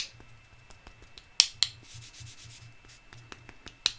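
A rubber stamp is rubbed against a cheat pad in quick, soft, scratchy strokes, close and quiet, punctuated by a few sharper taps.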